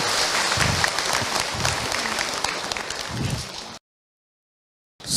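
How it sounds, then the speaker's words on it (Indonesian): Audience applause at a religious talk, a dense steady wash of clapping that holds for nearly four seconds, then cuts off into a gap of silence before a brief return at the end. "Tepuk tangan buat bunda yang bertanya."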